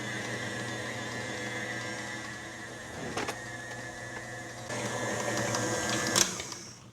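Electric mixer working the last of the dry ingredients into wet cookie dough, a continuous moderate motor hum with a few brief clicks and knocks.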